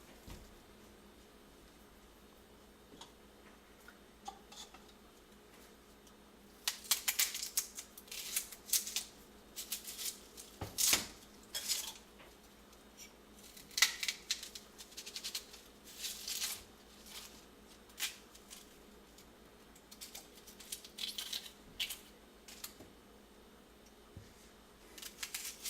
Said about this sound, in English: Cut it up, decent size. I just cut slices because it'll fall apart after it's cooking a while.